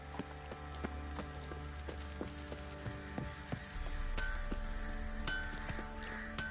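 Horse hooves clip-clop at a steady walking pace in The Witcher 3, moderately close, amid faint clinks and a low game ambience.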